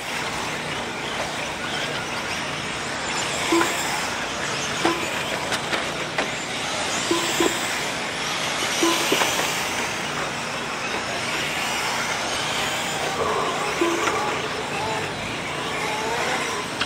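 Open 4WD RC short course trucks race around a track, their motors a steady high buzzing wash with faint passing whines and occasional clatters, heard at a distance.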